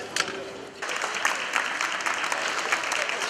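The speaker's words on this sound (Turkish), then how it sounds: "Yürüyüş boyunca da alkış aldılar." Supporters along a street march for disabled participants applaud, a steady crowd clapping with a few louder sharp claps and cheers standing out, voices murmuring underneath.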